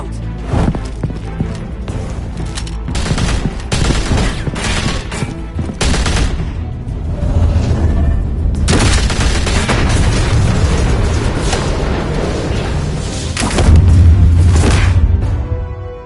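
Gunfire in the Batman: The Telltale Series video game, Episode 3, as a dense fusillade of loud booming shots and bursts repeats across the scene, mixed with heavy impacts and game sound effects.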